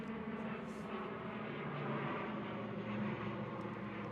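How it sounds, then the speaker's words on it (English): An airplane passing overhead, a steady broad low drone that holds at an even level from start to finish with no voices over it. "there is now a plane going over"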